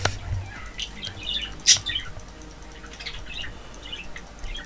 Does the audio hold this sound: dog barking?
no